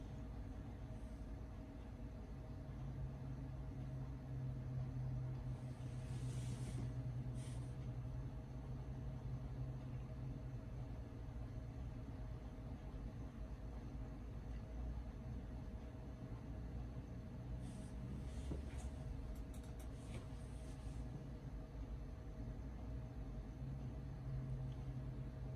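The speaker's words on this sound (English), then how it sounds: "Drive is still spinning away." An optical drive spins steadily in a computer during a Mac OS X 10.0 Cheetah installation, a faint continuous whirring hum with occasional soft clicks.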